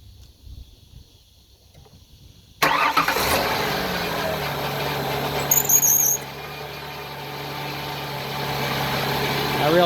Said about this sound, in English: So this will be a cold start, be somewhat noisy, but you'll see the vibration even as it comes down.